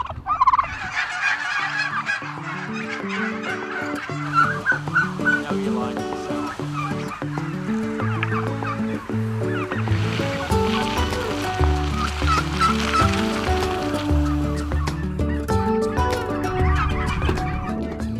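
A large flock of turkeys on a turkey farm gobbles and calls continuously, many birds overlapping in a dense chorus that stays loud and close throughout.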